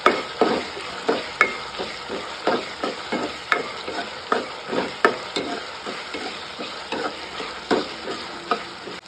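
Onions frying until brown in a pan with gram flour, ginger and garlic, a constant loud sizzle punctuated by regular scraping stirs roughly every half second, close up and without talk.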